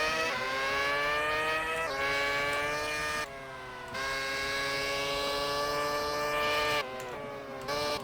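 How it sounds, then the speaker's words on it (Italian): Race car engines in the Grand Prix 4 video game, a Ferrari at the Malaysia circuit, whine at high pitch, tones sliding up and down as cars brake and accelerate, with short pauses between runs; no talking. "Guarda come sbanda qua in Malaysia."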